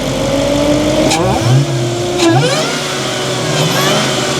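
A Dodge Charger SRT Hellcat Redeye's 6.2-liter supercharged V8 revs up twice with a rising roar, then settles to a deep, rumbling idle, loud and close.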